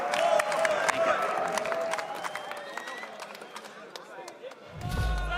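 An esports arena crowd in Budapest at a FURIA versus Imperial Major match claps and cheers in a busy, echoing wash while an announcer talks over it, ending with a deep booming swell.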